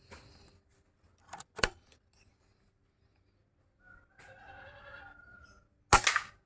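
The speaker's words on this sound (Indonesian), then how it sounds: "tembakan yang ketiga," Third air rifle shot at a paper target, a single loud sharp crack close by at the end, after scattered clicks and a stretch of faint mechanical rattling from the gun being readied.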